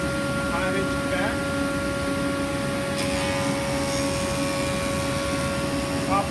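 A woodworking jointer runs with its dust collector going, a steady loud machine drone and whine that holds constant throughout with no talk over it.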